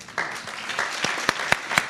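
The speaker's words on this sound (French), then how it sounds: "Vous voyez qu'on arrive à faire applaudir les MDPH." Audience applause in a French conference hall after a talk on informing parents about home help services, a short burst of steady clapping with a few sharper, louder claps standing out near the end.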